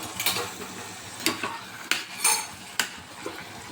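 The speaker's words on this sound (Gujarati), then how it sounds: "હલાવી લઈશું" A spoon scrapes and knocks against a pan while chili powder is stirred into cooked greens, about six distinct metallic clacks at an uneven pace, fairly close and moderately loud.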